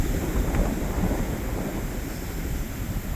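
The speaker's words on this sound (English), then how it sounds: "The waves are starting to break." Ocean waves break and surge near a Cutwater boat out on the water off a beach, a loud continuous watery roar mixed with wind buffeting the microphone.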